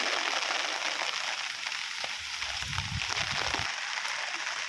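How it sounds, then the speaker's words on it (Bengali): Steady rain falls over a village road beside a playground field, a dense even hiss filling the whole stretch, with a few low thumps and rustles midway. "আজকে বৃষ্টি হচ্ছে।"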